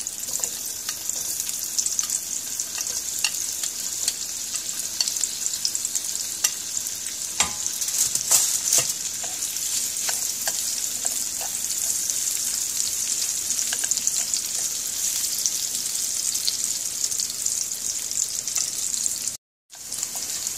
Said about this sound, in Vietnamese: Bên này mình chiên thịt này.